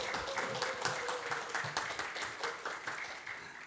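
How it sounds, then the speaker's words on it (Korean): Applause from a church audience welcoming a lecturer, moderate rhythmic clapping from a fairly small group, steady and even for a few seconds with faint music underneath. "큰 박수로 맞이해 주세요."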